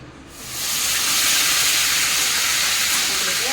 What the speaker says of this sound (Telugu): ఇప్పుడు మనము అల్లం వెల్లుల్లి పేస్ట్ వేసి ఫ్రై చేసుకుందాము